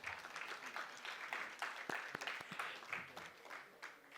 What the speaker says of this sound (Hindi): एक बार जोरदार करतल ध्वनि से ताली बजाइए